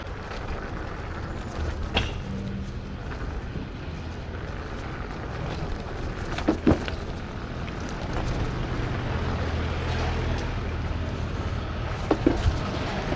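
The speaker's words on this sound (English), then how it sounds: "Look how quiet it is rolling on the cobblestones and all sorts of messed up terrain." An Ausom L2 dual-motor electric scooter with 10-inch wheels rolls over cobblestones and rough ground, giving a steady, fairly quiet rolling rumble mixed with wind noise and a few brief knocks from bumps.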